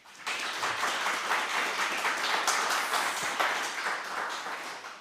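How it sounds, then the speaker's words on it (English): An audience applauds at the close of a talk during a MediaWiki users and developers conference, a dense, steady burst of clapping that holds for about five seconds. "Then a wonderful round of applause."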